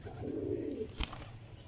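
A large pigeon coos in a brief low burst near a seller's stock of birds, followed by a short click.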